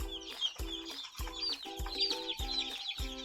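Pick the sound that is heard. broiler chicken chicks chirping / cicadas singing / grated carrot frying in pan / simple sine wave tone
broiler chicken chicks chirping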